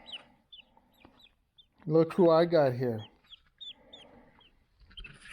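Small chicks peep in short, high chirps scattered throughout, some close and some fainter, while a person talks briefly in the middle.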